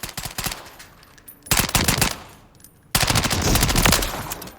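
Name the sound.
Honey Badger rifle firing in Call of Duty video game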